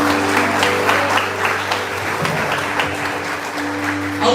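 Church congregation applauding during a Communion service, a dense, steady wash of clapping that holds loud through the whole stretch with a low hum underneath.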